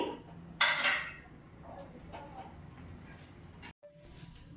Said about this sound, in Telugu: గిన్నె పెట్టుకుందామండి